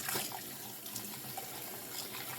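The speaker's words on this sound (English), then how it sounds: "you're going to see when I just rinse it with water, the water is all brown." Dirty espresso machine part being rinsed under running tap water, heard as a loud, steady splashing stream throughout with no talking.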